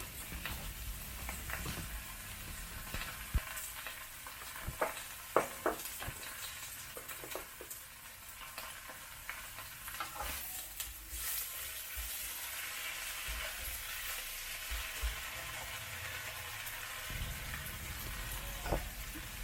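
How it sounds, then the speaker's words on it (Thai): Vegetables for a tofu stir-fry frying quietly in a pan, a low continuous sizzle dotted with scattered clicks and scrapes of stirring. "ใช้ความร้อนดึงน้ำของผักออกมาค่ะ ผัดผักอันนี้จะไม่แห้งนะคะ"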